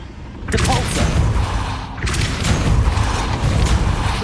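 A Depulso spell cast in Hogwarts Legacy bursts out as a loud, dense whooshing blast, followed by a second forceful surge partway through, with a spoken voice layered under the effects.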